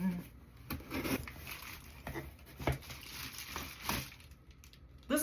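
A plant mystery box being cut open with scissors, with scattered crinkling, rustling and tearing of packaging and a few sharp snips or thuds close by, under light talk.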